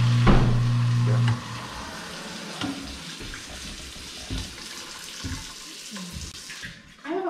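A kitchen garbage disposal in a new home runs with tap water flowing: a loud steady hum and rush of water at first, then softer gurgling and splashing with clatters, close by.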